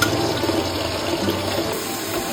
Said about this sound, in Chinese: 把洋芋炸得金黄酥脆，